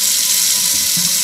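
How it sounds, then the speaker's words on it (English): Tap water runs steadily into a sink while a cast iron skillet is washed with soap, a close, even hiss with a faint squeak near the end. "it's easier for me just to clean it with soap and water first"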